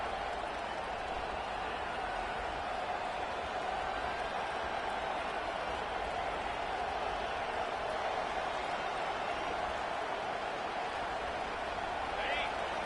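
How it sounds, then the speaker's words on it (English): A stadium crowd at a football game roars as the defense holds the offense pinned deep in its own end, a dense, continuous wash of noise that stays steady and unbroken throughout. "The roar of the crowd trying to fuel this defense to keep them pinned in their own end."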